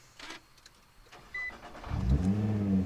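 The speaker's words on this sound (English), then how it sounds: "All right, let's fire this bad boy up." A 2009 Nissan GT-R R35 with a twin-turbo V6 tuned to about 600 wheel horsepower cranks briefly, then catches and settles into a loud, deep idle. A short electric whir and faint clicks come just before the start.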